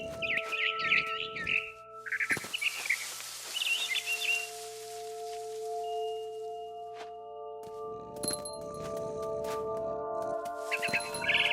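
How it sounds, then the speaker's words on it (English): A barn swallow chirps in What Remains of Edith Finch, bright twittering bursts near the start and again at the end, set against sustained game music tones and a wash of ambient noise. "Then I heard chirping outside my window. It was a barn swallow going back to her nest."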